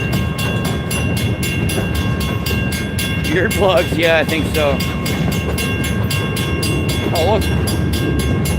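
Escanaba & Lake Superior Railroad locomotives 501 and 402 pass close by, a loud steady rumble with rhythmic wheel clatter while people chat nearby.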